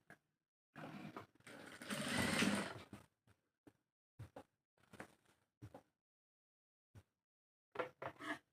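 A sewing machine stitches a hijab with a face cover, a long steady run of rapid needle chatter up close, then several short bursts of stitching separated by pauses.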